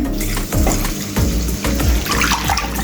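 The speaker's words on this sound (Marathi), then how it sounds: "हे पाणी आपण त्या मसाल्यामध्ये घालून घेऊया" Sprouted moth bean cooking water pours steadily into hot masala in a pan for Kolhapuri misal, a loud, continuous close-up splashing with light bubbling and no talking.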